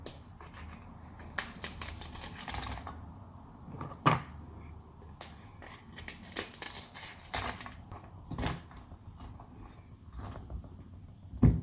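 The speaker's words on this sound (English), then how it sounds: "You know what? I'll just crumple them." Dry graham crackers being crushed by hand crunch and snap in irregular bursts up close, with crinkling and crumbling sounds scattered throughout and no talking.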